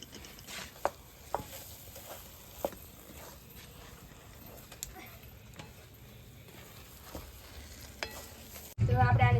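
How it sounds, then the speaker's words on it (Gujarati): Semolina sheera with cashews, almonds and raisins roasts in a pan with a soft, steady sizzle. Occasional scraping taps come from a stirring spoon, and a louder burst of different sound cuts in at the very end. "તો આપણે આને સારી રીતે શેકાવા દઈશું અને હલાવ્યા કરશું."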